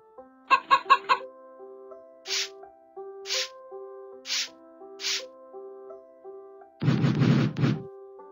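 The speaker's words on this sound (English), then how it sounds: "Yes, hen has an egg." A cartoon hen clucks in a children's learning animation, four short, evenly spaced clucks set against a simple tinkling synthesized melody, followed by a brief rushing noise.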